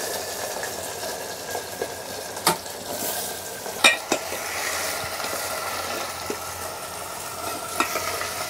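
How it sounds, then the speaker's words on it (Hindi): Vegetables cook in a pot on a clay wood-fired stove in a saint's hut, giving a steady, soft sizzle and bubbling with a few faint clinks and knocks, close by and alone without talk. "पीछे सब्जी पक रही है"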